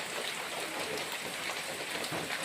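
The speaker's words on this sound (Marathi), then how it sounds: "आणि इकडे पण पाऊस भरपूर जोरात आहे" Heavy rain pours steadily outside a covered veranda of a house, a dense, continuous hiss of drops close by with no break across the short stretch.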